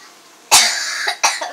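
A person coughs twice up close, loud harsh bursts with a short gap between them and no talking.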